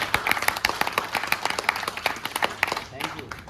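An audience at a talk applauds a speaker, a burst of many hands clapping quickly and unevenly that thins out toward the end.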